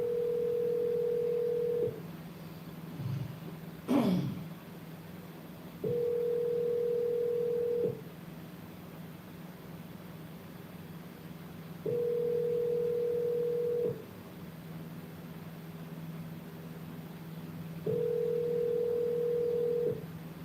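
A telephone call is placed, with a brief burst of dialing tones early on, then four evenly spaced long ring tones about two seconds each, separated by quiet gaps on a low steady line hum.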